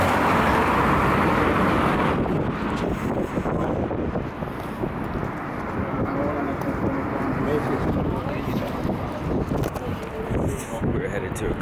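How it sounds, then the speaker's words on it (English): Strong wind buffets the microphone in a constant rushing roar, with faint voices underneath. "And it's windy, cold."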